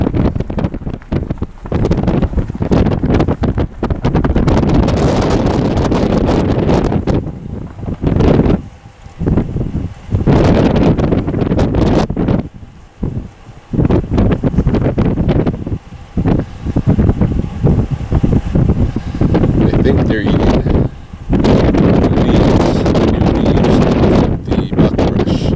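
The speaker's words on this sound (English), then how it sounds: "It's pretty windy today." Strong gusts buffet the microphone in loud rumbling bursts, dropping briefly between gusts before roaring back.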